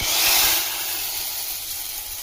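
Hot tempering is poured into boiling sambar and erupts in a loud, close sizzle that flares at once, then settles into a steady, softer hiss.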